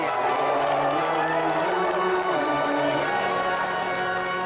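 A television studio audience claps and cheers continuously, a dense wash of applause with voices mixed in.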